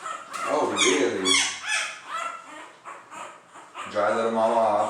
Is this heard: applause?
no